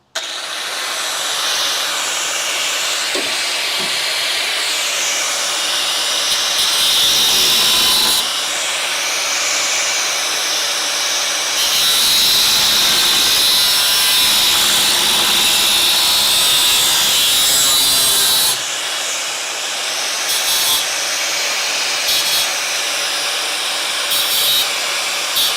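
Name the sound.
grinder cutting and flattening metal frame rail tab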